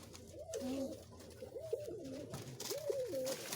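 Rock pigeons coo in repeated soft, throaty phrases close by, set against a steady low background hum.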